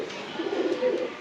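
A Thor pigeon coos softly in a brief, low, throaty burst, close and fairly faint.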